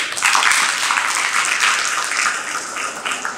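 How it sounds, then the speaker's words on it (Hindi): An audience applauds at a Hindi poetry recitation, a dense, steady wash of many hands clapping throughout, fairly loud and sustained without a break. "आगे की पंक्ति पर आपकी तालियां चाहूंगी।"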